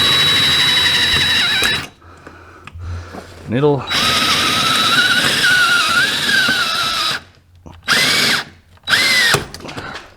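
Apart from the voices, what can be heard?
drill drilling into aluminum UTV door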